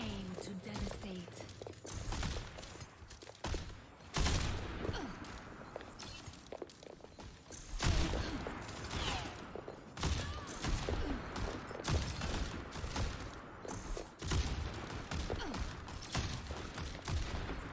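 Dense video game gunfire, rapid shots and bursts crackling almost continuously at steady loudness, with players talking over the shooting throughout.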